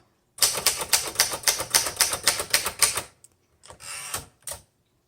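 A 1971 Remington Ten Forty vintage typewriter types in a fast, even run of sharp key strikes up close, then a short pause and a second, briefer burst of clacks.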